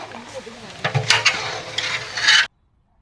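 Cashew nuts and raisins frying in onion-flavoured oil for a Kerala-style Malabar chicken biryani, a steady crackling sizzle with scraping stir sounds, close and moderately loud, ending abruptly.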